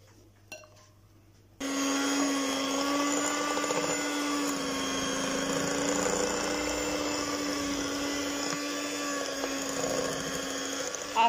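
An electric mixer beats butter and icing sugar for cookie dough, a steady high-pitched whirring motor drone that starts abruptly after a brief quiet moment and runs continuously to the end.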